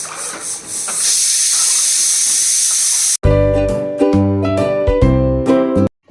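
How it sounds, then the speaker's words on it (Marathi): A pressure cooker with rice inside blows a loud, sustained hiss of escaping steam, then the sound cuts out and gives way to tonal music. "कुकरच्या शिट्ट्या होतात"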